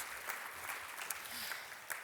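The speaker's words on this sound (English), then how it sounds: "That's an applause." Faint, steady applause from an audience at a school district address, a soft continuous patter of clapping heard at a distance.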